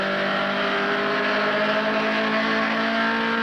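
A 1971 Datsun 510 race car accelerating out of a right-hander onto the pit straight, its engine a loud, steady droning roar with sustained harmonic tones and no talk over it.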